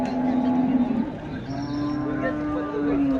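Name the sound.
cows at a cattle market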